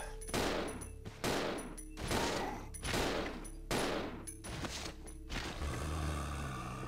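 Gunfire rings out in the video game Resident Evil 0, a series of loud, booming shots fired at a steady pace, each followed by a short metallic reload or mechanism click.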